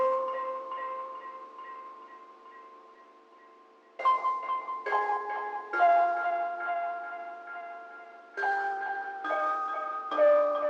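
A counter melody from the Cassette Mullets instrument plays soft, wavering tonal notes, first one quiet held phrase and then a busier run of plucked-sounding notes at moderate level.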